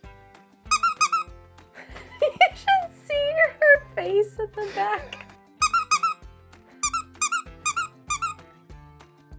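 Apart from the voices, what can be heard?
dog playing with squeaky toy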